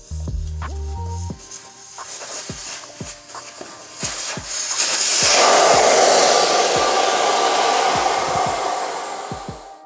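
Air rushes out of a motorcycle tire once the valve core is pulled, a broad loud hiss that builds midway and holds, with sharp clicks and scraping handling noises before and through it.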